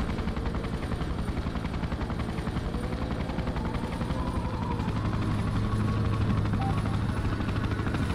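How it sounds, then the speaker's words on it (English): An attack helicopter in the video game Freedom Fighters drones on in a steady, dense rotor thrum that fills the whole stretch without pause, loud and continuous with no voices over it. "There's gotta be a way to destroy that attack helicopter"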